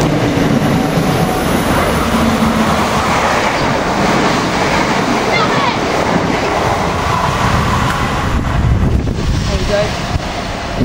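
A Class 319 electric multiple unit passes through Wivelsfield station, a steady broadband rumble and rush of wheels and wind lasting throughout, loud and close, with people talking excitedly over it.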